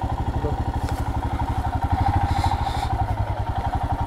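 A motorcycle engine idles close by with a steady, throbbing low pulse while the bike is moved and parked on a trip to Darjeeling, with occasional faint clatter.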